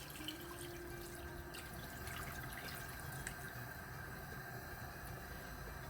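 Water runs into a pot of Chinioti mutton kunna gosht, a steady faint trickling stream with light splashes and drips, continuous and fairly quiet with no talking.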